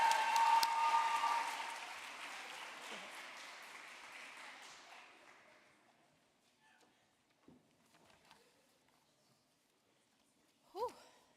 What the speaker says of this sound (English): How about another round of applause for all our winners?